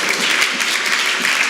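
Congregation applauding at a Paris church service, a short, loud burst of dense hand clapping with rhythmic pulses throughout.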